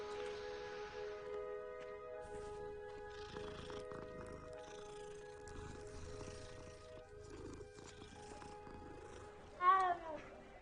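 A cat in the Hogwarts Legacy video game purrs softly under steady game music and ambience. Near the end, a brief, louder meow-like call stands out.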